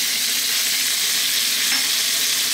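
Onion, garlic and ginger hitting a hot pan for a broccoli curry, giving a loud, dense, even sizzle that holds steady throughout with no talking.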